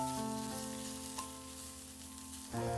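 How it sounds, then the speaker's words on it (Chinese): Washed pork belly slowly rendering over medium-low heat in a wok, a soft, quiet sizzle and gentle crackle beneath steady background music, no speech. "清洗干净的五花肉直接放入锅中，用中小火慢慢的把五花肉煸香，"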